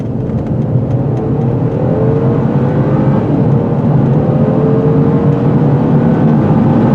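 A 2019 Mercedes-Benz E450 4MATIC convertible in sport mode cruises with a steady, loud engine drone and road rumble, rising and falling gently in pitch under wind noise, with no voices throughout.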